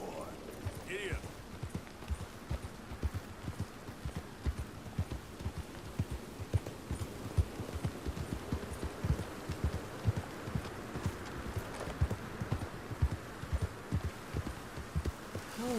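A horse's hooves clip-clop at a steady riding pace in the Red Dead Redemption II video game, with rhythmic thuds running the whole time under a low hum and occasional voices.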